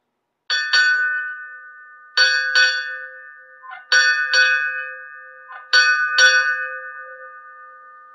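A ship's bell strikes in four evenly spaced pairs during a US Navy 245th birthday ceremony. Each strike rings out clearly and decays slowly, with no voices.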